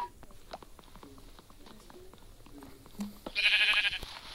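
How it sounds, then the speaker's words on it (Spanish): Sheep bleats from the Minecraft video game ring out as short cries over light game patter and footsteps, ending in a louder burst of sound near the close. "la oveja que nos faltaba para dormir."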